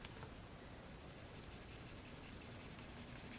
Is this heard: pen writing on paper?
yes